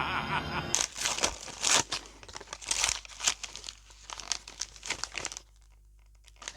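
Gift wrapping paper held with several layers of tape is torn and crumpled open at close range, loud crinkling rips in irregular bursts for several seconds before falling quiet.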